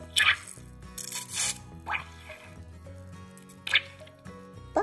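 Thick bubble bath liquid drips and squelches in uneven bursts, with wet squishy splats among soft background tones.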